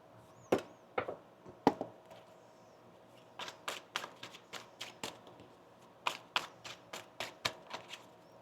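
Tarot cards shuffled by hand in a series of crisp, rapid riffling bursts, a few separate flicks first, then steady runs of sharp slaps, close and fairly quiet with no talking.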